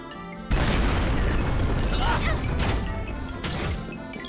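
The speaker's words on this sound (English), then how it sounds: "Looks like a power bomb, right?" A power bomb spell blasts in Secret of Mana, a loud sudden boom that bursts in after a brief quiet lead-in and holds as a rumbling crash with scattered crackling hits and smaller pops tailing off.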